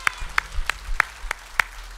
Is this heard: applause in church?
yes